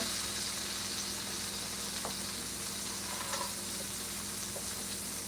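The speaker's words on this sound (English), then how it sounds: "So let's drop our tomatoes in." Tomatoes dropped into a hot pan give a steady, close sizzle of frying that runs evenly throughout with no talking, a few faint clinks and stirring taps showing above it.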